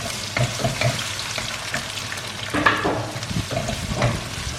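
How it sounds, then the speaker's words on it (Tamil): Cinnamon, star anise and whole spices sizzle in hot oil for bamboo biryani, a close, steady crackling fry with scattered pops and occasional stirring scrapes. "சின்ன பீஸ் பட்டை, அன்னாசி பூ எல்லாத்தையும் போட்டு ஃப்ரை பண்ணிகிட்டே இருக்கேன். இது சிசில் ஆகட்டும்."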